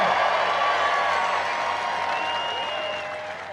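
Large outdoor political rally crowd at a Trump event, applauding and cheering as a dense, steady roar with whistles and shouts, loud and sustained then easing slightly toward the end.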